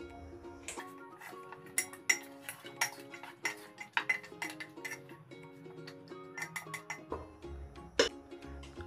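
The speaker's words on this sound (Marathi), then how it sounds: "1 वाटीभर पाणी टाकायचं आणि पुन्हा एकदा त्याला आपल्याला मस्त हलवून घ्यायचं आहे." A spoon stirs mutton paya (goat trotter curry) with a cup of added water inside a pressure cooker, producing a rapid run of sharp metallic clinks and scrapes against the pot.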